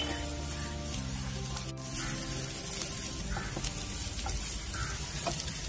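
Onions fry in a pan for a hotel-style dragon chicken, a soft continuous sizzle with faint crackles and a brief sharp clink partway through, with no one talking.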